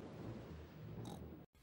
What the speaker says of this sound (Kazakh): Бұл күн күркіреу, Пеппа.